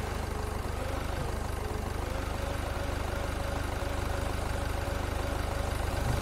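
A forklift engine idling in a beer factory game, a steady rhythmic low chug running evenly and close throughout.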